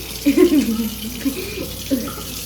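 Warm water runs from a kitchen tap into a measuring cup while pizza dough is being prepared, a steady close gurgling flow lasting a couple of seconds with no talk.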